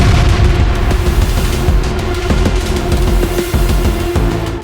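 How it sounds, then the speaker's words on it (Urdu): Cannons of a Maratha army firing on a battlefield at Panipat, a dense, continuous rumbling roar of blasts that stays loud throughout with no pauses. "مرہٹوں کی توپیں گرج اٹھی۔"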